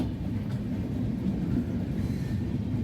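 Train running on rails as it departs Chhapra Junction past the outer signal, a steady low rumble that holds evenly throughout without any talk.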